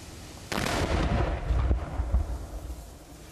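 A 5-inch firework shell, inverted in a rack tube, fires with a single sharp thunderous boom followed by rumbling, crackling decay at moderate distance.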